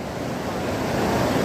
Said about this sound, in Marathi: सांडव्यावरून पाणी कमीत कमी 2 फूट वाहत आहे